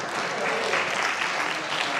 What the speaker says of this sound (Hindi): बढ़िया ताली बजा के हमारे बड़े का हमारा अभिनंदन करें